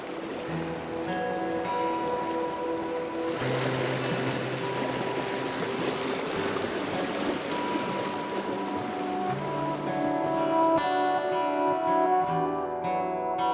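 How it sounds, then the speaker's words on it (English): A small stream in Victoria, Australia flows and burbles steadily over its bed, a continuous close rushing wash of water with no talking. "Small streams like this can be found throughout Victoria"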